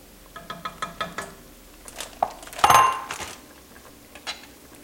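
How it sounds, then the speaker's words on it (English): Onion soup ladled into a bowl: a series of light metallic clinks and taps from the ladle against the pot and bowl, then a brighter clatter midway, fairly close and quiet with no talk. "I'll take a little soup, put it in my bowl"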